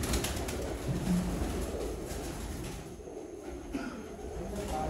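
Pigeons coo on a rooftop in Sialkot, with soft low cooing calls set against a constant outdoor background rumble.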